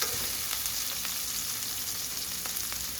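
Whole garlic cloves frying in a pan, giving a steady, dense sizzle and crackle close up with a few faint stirring taps, no voices.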